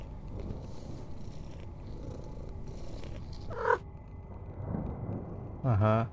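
A cat's soft, steady rumbling purr runs low and close underneath, while someone talks and a brief meow-like voice sound pops up twice.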